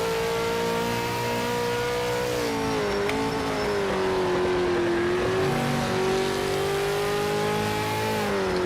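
Race car engine in a racing video game, holding a continuous droning note that rises and dips with throttle and gear changes throughout, steady and close with no talking.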